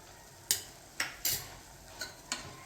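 Spoon scraping and knocking in a pan while mutton is stirred with turmeric, ginger and garlic for mutton pickle, giving six sharp, quiet clinks at irregular intervals over a soft background with no talking.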